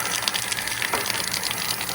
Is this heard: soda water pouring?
yes